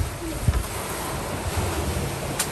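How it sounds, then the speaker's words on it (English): Rough sea waves surge and wash around a sailboat at sea, with steady wind buffeting the microphone and a few heavier splashes, no voices. "the sea state out there is pretty rough"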